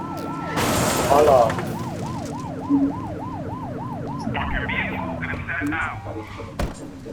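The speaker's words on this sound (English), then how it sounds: "flip the siren and make them pull over" A video game police car siren wails in a fast repeating yelp with a car engine underneath, while people talk over it.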